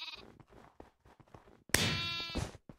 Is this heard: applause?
no